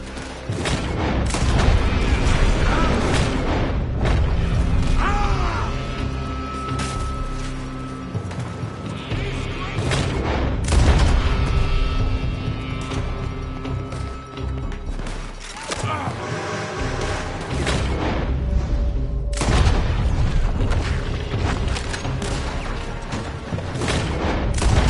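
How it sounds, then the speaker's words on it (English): Gunfire and explosions from a Red Dead Redemption 2 shootout roar nearly nonstop, dense overlapping shots and booming blasts staying loud throughout, with shouted voices mixed into the chaos. "They're shooting from that building!"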